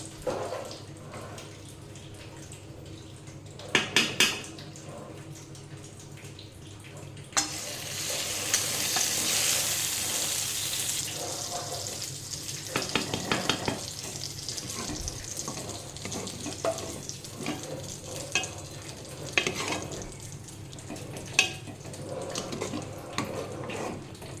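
Whole cumin seeds and dried chilies fry in hot oil for khichuri, a close sizzling crackle with stirring scrapes, a brief louder hissing surge and scattered clinks of a spoon against the pot.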